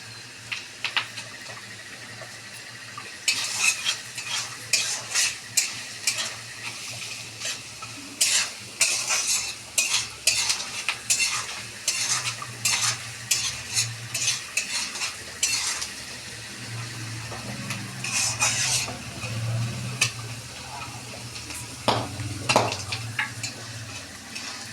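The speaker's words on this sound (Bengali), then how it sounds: "দিয়ে সমস্ত উপকরণগুলো আমার ভালো করে ভাজা হয়ে গেছে।" Fried ingredients and nuts for khichuri are stirred in a pan, with repeated sharp scrapes and clinks of a utensil against metal over a soft sizzle for about twenty-five seconds.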